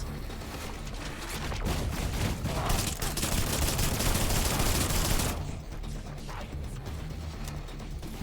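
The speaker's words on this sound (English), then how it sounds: "And he's using the rockets." An enemy firing rockets in the System Shock (2023) remake, a dense run of rapid blasts and impacts that swells and then drops off sharply to a quieter mechanical hum.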